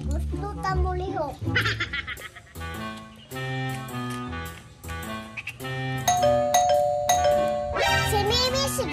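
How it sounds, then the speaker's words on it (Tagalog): Doorbell chimes ring again and again, loud and close, with children's voices and talk around them in a home. "Si Mimi siguro ni kay kadaghan man doorbell"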